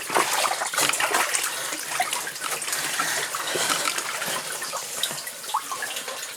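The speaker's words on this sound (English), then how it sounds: "That is really deep water." Water trickles and splashes steadily in a flooded old lead mine vein with deep water, a dense, close, continuous wash with scattered drips and no voices.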